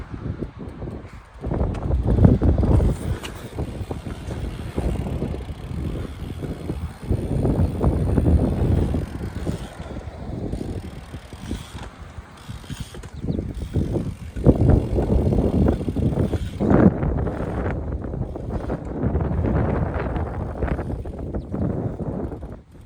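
Strong gusting wind at an outdoor skatepark in Boise, Idaho, roaring and buffeting the microphone in heavy continuous rumbles that swell and ease across the whole stretch, with no voices.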